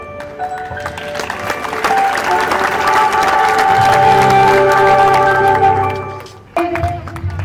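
Audience applause and clapping at a weapon-worship (shastra puja) ceremony, a dense sustained wash of claps with crowd noise that swells, dips near the end, then resumes.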